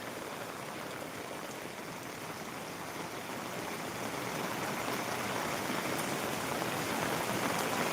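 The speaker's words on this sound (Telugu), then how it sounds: "ప్రస్తుతానికైతే మీకు చూపిస్తున్నా వర్షం ఎలా కొడుతుంది ఊళ్ళో" Heavy rain pours down over a village in a constant dense hiss, steady and enveloping at moderate level, swelling slightly louder toward the end, with no voices.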